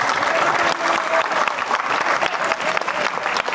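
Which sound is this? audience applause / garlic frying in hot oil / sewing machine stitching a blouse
audience applause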